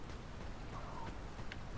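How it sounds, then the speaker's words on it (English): Steady soft rain falls in the video game Drug Dealer Simulator 2, a faint continuous hiss with scattered drop patter and no talk. "Can you not see that it's still raining?"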